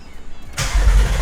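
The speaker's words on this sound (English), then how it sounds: "So Trey, you wanna fire her up?" A car engine cranks and catches after a fuel system repair, jumping abruptly from quiet into a loud, close, rumbling start and settling into a strong run.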